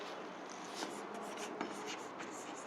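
Pen or marker writing a chemical formula, a soft scratchy stroking sound with short bursts of scribbling, faint and close, with no talking.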